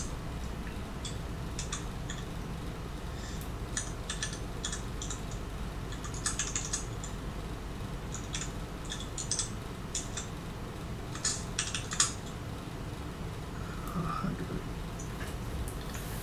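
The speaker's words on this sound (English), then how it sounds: "I could type" Bursts of rapid typing on a computer keyboard during a pair-programming session, clusters of close key clicks separated by pauses over a low steady background hum.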